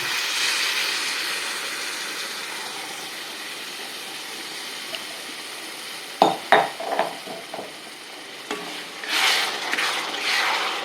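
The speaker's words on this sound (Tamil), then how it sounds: "புளி ஜலம் அதை இதில் நான் விடுறேன்." Tamarind water is poured into hot oil for a traditional mango-ginger thokku. A quiet background hiss gives way to a sudden burst of sputtering, then uneven bubbling and sizzling pops, with no talking.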